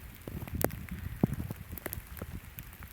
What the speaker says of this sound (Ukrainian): Треба йти, бо бачимо, накрапає дощик у нас.